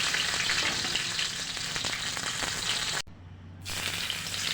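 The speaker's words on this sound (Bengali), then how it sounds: "একদিকে মাছ ভেজে নিচ্ছি" Fish frying in hot oil in a pan on a gas stove, a steady dense sizzle that cuts out briefly near the end and then resumes more quietly.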